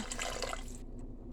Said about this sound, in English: Now I'm going to add the water.